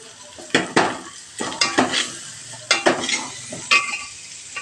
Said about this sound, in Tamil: எண்ணெயிலே போட்டு வதக்கணும்